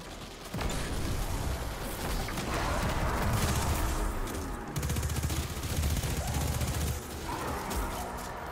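Rapid bursts of enemy gunfire in a Destiny 2 Lightfall campaign mission, dense and continuous under a loud game soundscape with mechanical clatter, pausing briefly then resuming.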